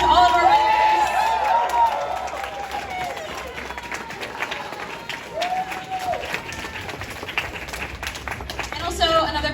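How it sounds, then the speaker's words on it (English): Applause from a crowd at a cosplay contest at TouhouFest 2025, dense clapping throughout with occasional cheers, fairly close and steady for several seconds. "big round of applause to all of our winners."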